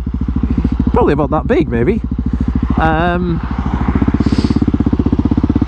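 A KTM 701 Supermoto single-cylinder engine runs with a steady, loud, pulsing thump throughout, close by, while someone talks over it for the first few seconds.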